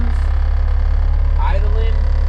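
A motorized junkyard cart's engine idles steadily up close, a constant low throb running throughout, with a voice speaking briefly over it.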